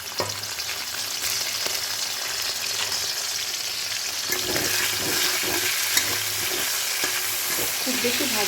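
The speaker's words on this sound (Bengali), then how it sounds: "এই তেলের মধ্যে চিংড়ি মাছগুলো এবার ভেজে নেব।" Prawns dropped into hot oil in a wok, after chicken was fried in the same oil, sizzle loudly and continuously up close, with faint clinks and stirring scrapes rising toward the end. No voices.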